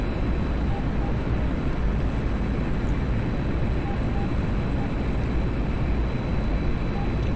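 A MiG-21 jet roars steadily during a video game dogfight, a dense, unbroken engine rumble at constant loudness with no voices heard.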